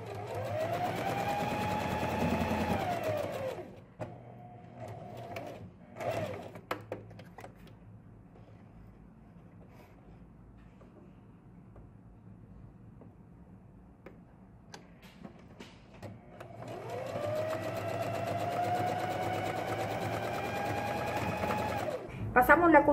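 A sewing machine runs a seam on baby jumper fabric, its steady whirring motor starting and stopping in two long bursts with quieter handling between them, close by.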